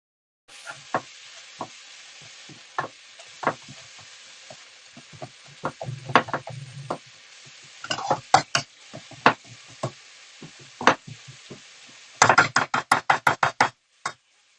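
Fajita mix sizzles in a very hot pan while a utensil stirs and knocks against it, a steady frying hiss broken by irregular scrapes and a quick run of rapid taps toward the end.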